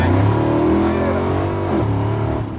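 A loud, deep exhaust rumble from a nearby Ram TRX truck engine with a Demon package, revving and holding a throaty drone before easing off at the end.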